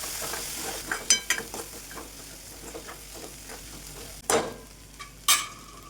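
Washed masoor dal frying in oil in a pan and being stirred, a soft steady sizzle with scraping clicks from the spoon and two sharper stirring bursts near the end.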